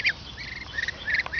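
Six-week-old ducklings quacking nearby, a few short, bright calls scattered across a quiet outdoor background.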